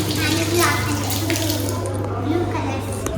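Tap water runs steadily and loudly over hands at a temple entrance for a few seconds, with voices talking over the flow.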